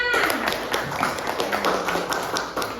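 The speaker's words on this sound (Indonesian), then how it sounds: "mana tepuk tangannya?" Children clapping in an Indonesian classroom after the teacher asks for a round of applause for a group's work, steady dense clapping throughout with voices mixed in.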